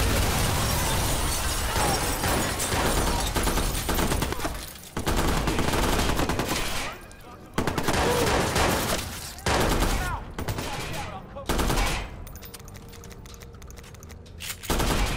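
Dense, loud video game gunfire in Watch Dogs on Xbox One S, sustained bursts of automatic fire and shots with brief lulls, continuous and close throughout.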